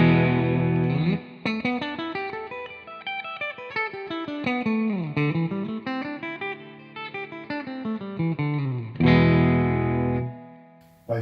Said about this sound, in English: So starting with the Telecaster on the bridge pickup on clean.